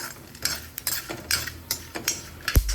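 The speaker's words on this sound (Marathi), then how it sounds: "पण हे सगळं छान परतवून घेऊया लाल होईपर्यंत काजू आणि शेंगदाणे." Cashews and peanuts sautéed in a pan for no-onion, no-garlic lemon rice, with repeated scraping and clinking of a spoon against the pan in an irregular rhythm, close by and moderately loud, followed by one sharper knock near the end.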